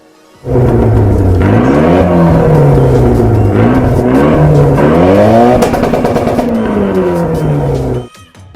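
Engine of a 2G Mitsubishi Eclipse revving up and down through repeated rising and falling pitch sweeps, loud and close, held for several seconds before cutting off near the end.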